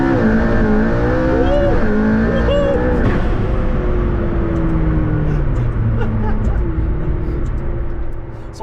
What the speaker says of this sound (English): That was full throttle on a P1.